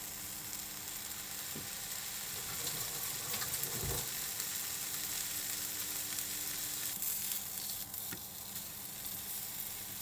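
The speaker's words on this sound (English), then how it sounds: "Slice 2 pieces of spam from the can and fry them in a pan" Slices of Spam fry in a pan with a faint, steady sizzle, a few soft clinks and scrapes rising now and then, heard close with no talk.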